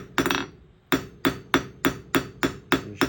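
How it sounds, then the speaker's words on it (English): A hammer's round face strikes a rolled metal rod to texture it, about nine sharp, ringing blows in a steady rhythm after one early pair of hits, close and loud with no talk. "So for texturing, I just use the round side of my hammer"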